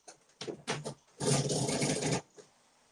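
A Janome 550E embroidery sewing machine stitching out an in-the-hoop project. It runs in short bursts first, then in one steady mechanical whirring run of about a second, close by with no talk.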